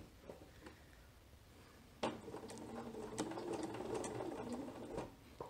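A home sewing machine stitches a raglan sleeve baby dress, quiet at first, then whirring steadily in a close, soft run with small mechanical clicks.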